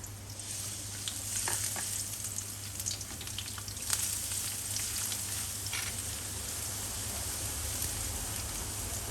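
Chopped garlic frying in a little oil in a pan gives a continuous, even sizzle, close and moderately quiet, with faint crackles and one small clink about midway, no voices.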